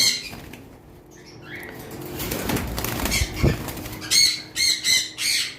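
Pineapple conure parrots in a cage, a pair giving several loud harsh squawks in quick succession near the end after quieter rustling and scraping.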